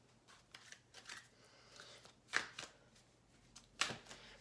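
A deck of oracle cards is shuffled by hand in soft riffling bursts, with two sharper snaps where the cards knock together, close and fairly quiet with no talking.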